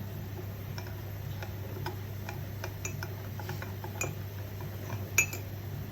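A metal spoon stirs homemade coffee briskly in a cup to whip up foam, giving a run of light, irregular ticks and clinks over a steady low background hum.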